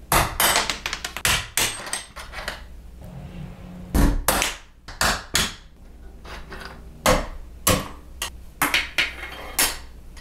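A small nail set struck with a hammer to drive a door hinge pin upward, giving a series of sharp metallic taps in irregular bursts, close and fairly loud, with no talk.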